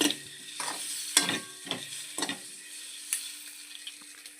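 Onions frying in oil for tomato egg curry, being stirred: a soft continuous sizzle with several distinct scraping strokes of a spoon in the pan during the first half, then the sizzle carries on alone.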